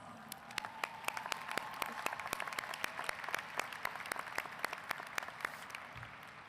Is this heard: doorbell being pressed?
no